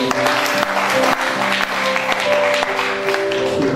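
A wedding congregation claps after the ring exchange, with sustained, fairly loud applause from a crowd and faint sustained tones underneath.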